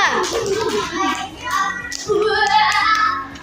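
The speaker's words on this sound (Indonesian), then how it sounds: "Beri tepuk tangan untuk kelompok 2" A fourth-grade elementary classroom applauds a student group, with a brief patter of clapping hands mixed with children's voices and an adult talking over it.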